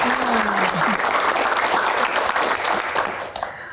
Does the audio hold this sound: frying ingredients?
no